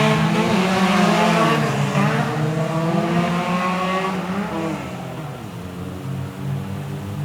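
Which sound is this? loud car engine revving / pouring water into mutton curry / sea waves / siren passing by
loud car engine revving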